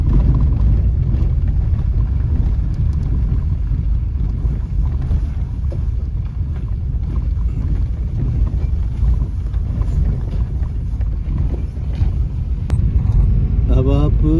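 A car rolls downhill in second gear on the Wari La mountain pass in Ladakh, its steady engine and road rumble mixed with heavy wind buffeting the microphone throughout, while someone talks over it.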